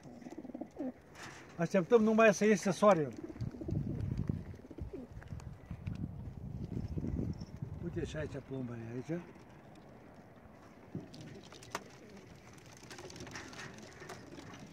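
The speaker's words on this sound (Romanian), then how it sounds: "Vedeți, porumbei sunt gata pentru zbor." Racing pigeons coo softly before release for a 460 km race final, their murmuring calls heard beneath someone talking nearby, with a few louder flutters and bursts of activity outdoors.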